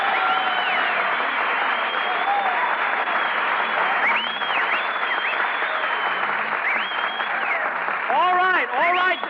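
A radio show studio audience applauds an arriving MGM actress guest in sustained, even clapping that fills the room, with a voice speaking over it near the end.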